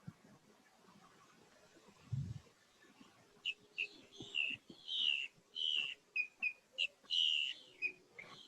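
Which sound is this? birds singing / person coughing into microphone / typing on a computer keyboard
birds singing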